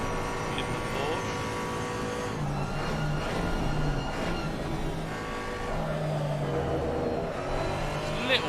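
A Porsche GT4 race car in a sim racing game at Kyalami drones steadily with a continuous engine note and shifting pitch, while commentators talk over it throughout.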